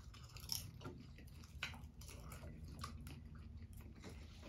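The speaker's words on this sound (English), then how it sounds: "let's try the salty popcorn" Close crunching bites and chewing of salty popcorn, a few distinct crisp crunches followed by softer mouth sounds, quiet and with no talking.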